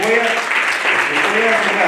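A church congregation claps in praise during a sermon, a short burst of full, steady applause close by, with voices shouting and singing over it.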